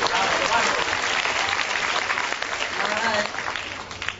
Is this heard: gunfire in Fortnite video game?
no